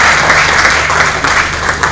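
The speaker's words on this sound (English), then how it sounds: "Please, a round of applause one more time for him." Audience at a ceremony honouring a retired colonel applauds, a loud continuous wash of clapping over a low steady hum, with no distinct voices.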